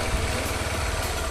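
A motorcycle engine idling during a riding lesson, a steady, loud, close mechanical rumble with constant vibration and no change in revs.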